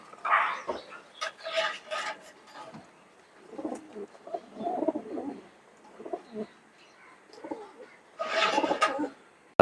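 Pigeons coo softly in short throaty bursts, several calls spread across the stretch with quiet gaps between them, close by and fairly faint.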